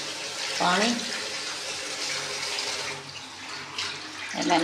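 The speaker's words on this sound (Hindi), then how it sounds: "डालेंगे इसमें पानी।" Water pours and splashes into a kadai of mutton seasoned with salt and turmeric, a continuous gushing fill with brief voices speaking over it.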